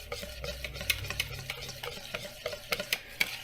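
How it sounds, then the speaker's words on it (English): A whisk beats an egg yolk mixture for lemon meringue pie filling in quick, rhythmic, fairly quiet strokes with light scraping ticks, close up and without talk. "we're going to whisk it in there slowly"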